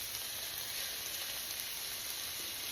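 About two pounds of finely chopped beef, not ground, sizzles steadily in a hot pan for carne picada, a continuous bright hiss with no voices over it.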